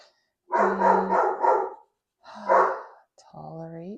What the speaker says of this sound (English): tolerate the doggy outbursts